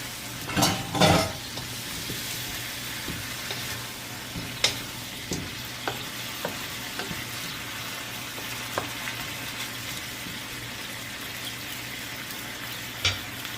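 Adobo chicken wings with potatoes, just dosed with oyster sauce, sizzle steadily in a pan while a utensil stirs them, with a couple of louder scrapes at the start and scattered clinks after; no talking.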